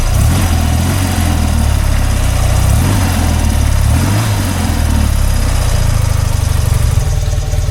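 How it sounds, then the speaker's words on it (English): A BMW R100RT motorcycle engine runs loud and close, its low rumble swelling with a few revs before settling lower toward the end, without any talk. "Let's give a little rev and then turn it off."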